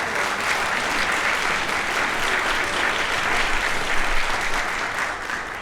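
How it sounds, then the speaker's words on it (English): Steady, vigorous applause from an audience at a school winter concert, a dense wash of clapping that holds at a strong level throughout without pause. "The 8th grade band applauded vigorously"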